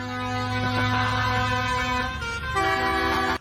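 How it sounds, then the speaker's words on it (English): Vehicle horns blare continuously in a farmers' protest convoy, loud sustained tones overlapping and shifting in pitch as different horns take over, ending abruptly. "I love the honking."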